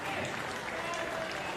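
A capacity crowd at a para table tennis semifinal applauds in a steady, dense wash of clapping, with a voice speaking over it.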